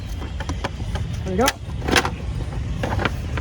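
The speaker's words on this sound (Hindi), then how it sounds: "गाड़ी पर्ची है रही, चाबी है रही, गाड़ी निकालते हैं" Car keys jangle in short metallic bursts as a car is about to be taken out at a Delhi market, over a noisy street background with a vehicle nearby.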